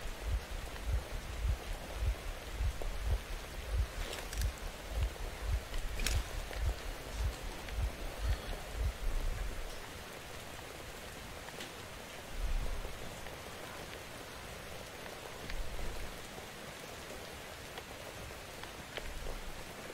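Steady rain pours down in a stormy scene from the video game Metro Exodus, dense broadband hiss with low rumbling gusts and occasional sharper drops, heavier in the first half before easing to a softer, constant patter.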